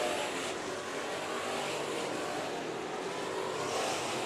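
IMCA Sport Mod race cars at Bakersfield Speedway roar around the track as a steady, dense engine wash, fairly distant and continuous, with no voices over it.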